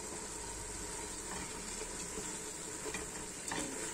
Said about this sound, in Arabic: خليها تقلى